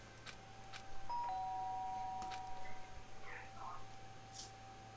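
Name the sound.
doorbell ringing in video game Danganronpa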